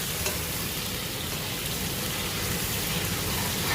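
Chicken sizzling in a pan with ginger and garlic for nihari, a steady, dense crackle of frying oil at moderate volume with no voices.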